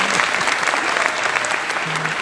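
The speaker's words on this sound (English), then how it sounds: "big round of applause for that" Lively applause from a luncheon crowd honoring the CompTIA Member of the Year, continuous and fairly loud, with faint voices mixed into the clapping.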